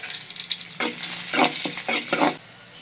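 Chopped small onions and a dried red chili, broken in two, hitting hot oil with mustard seeds, a loud close sizzle that flares in several bursts of spattering and stirring, then cuts off abruptly near the end; no voices.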